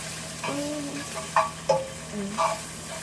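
Meat frying crispy in a pan gives a steady close sizzle and crackle, punctuated by a few brief pops and faint sounds of stirring.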